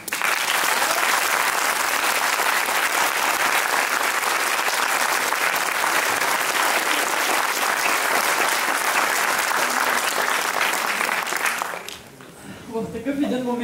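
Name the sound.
audience applause in a packed hall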